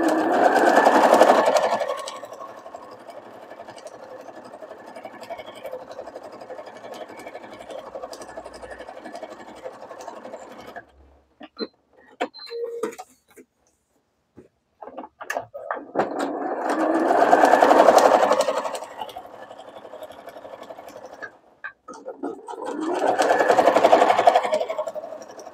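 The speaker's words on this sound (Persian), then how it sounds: "با دوخت مطلسه پارچه رو به نمد دوخت" A sewing machine stitches fabric onto felt for a cooking pot cover, in several loud bursts separated by a quieter steady whir and brief pauses with handling noises.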